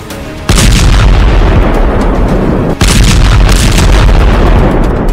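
Two massive explosion blasts, the first after a short rumble and the second a couple of seconds later, each a loud, sudden booming burst followed by sustained roaring debris and rumble.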